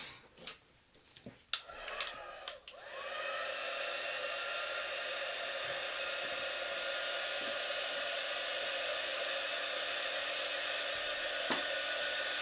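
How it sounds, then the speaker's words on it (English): Hair dryer blowing steadily to dry a Chalk Couture transfer on a double-sided box frame, a continuous close whirring rush after a few brief handling knocks at the start, with no talk. "let me dry that"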